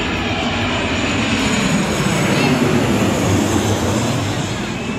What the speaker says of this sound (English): Now is a Virgin Australia Boeing 737-8 SA